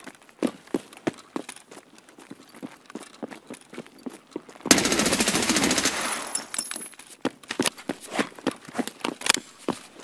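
A sustained burst of automatic gunfire erupts in a shooter video game set around a hotel, heard over a steady rhythm of quick footstep-like clicks before and after.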